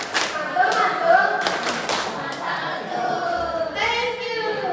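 A group performs the 'tepuk mantul' clapping routine, a burst of sharp rhythmic claps in quick succession near the start, then fading into scattered taps under a room of voices.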